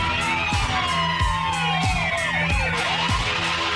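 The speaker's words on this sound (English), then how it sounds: "We put Godzilla in it and all kinds of sirens and stuff." Sirens in a radio show theme song, with wailing tones sweeping up and down over a heavy, rhythmic pounding beat, loud and continuous throughout.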